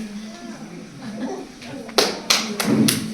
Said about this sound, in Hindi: सीधी ताली बजानी आती है?